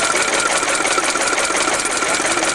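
A vintage Daimler car engine running, a fast, even mechanical chatter close to the microphone with a dense, steady clatter and no pauses.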